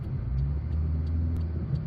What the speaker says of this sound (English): The overhead valve engine in this car is a bit noisy as well